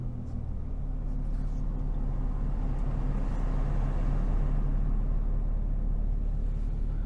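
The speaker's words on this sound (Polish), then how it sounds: "Włączymy sobie samochód." A 2018 MINI Cooper S three-door with a 2.0-litre 192 hp petrol engine starts and settles into a steady idle, a low, continuous rumble heard up close with no talking.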